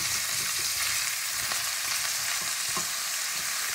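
Fresh green beans and tomato sautéing together in a pan, a steady moderate sizzle with occasional light clicks of a spoon stirring, no speech.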